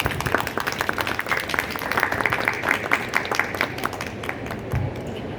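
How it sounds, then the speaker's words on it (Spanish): A seated audience at a talk on fantasy and mythology applauds to welcome the speakers, giving sustained, even clapping at moderate loudness that tails off near the end. "recibamos a nuestros ponentes con fuertes aplausos"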